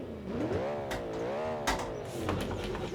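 Engine of a Civetta Bolide car in BeamNG.drive revving up and down in smooth, rising and falling sweeps, fairly loud and close, with no talk over it.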